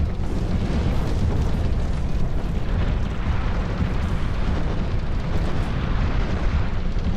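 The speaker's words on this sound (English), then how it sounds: "So you can actually light it on fire." In Dark Souls 2, a burning windmill that pumps poison into the Earthen Peak facility gives a loud, dense roar of fire that rumbles on steadily without a break.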